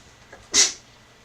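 A single short, sharp sneeze, close and fairly loud, bursting out after a faint intake of breath in a home kitchen during a cooking livestream.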